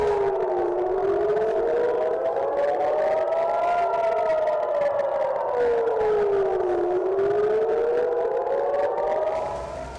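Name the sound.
air raid sirens in Israel during rocket attack from Gaza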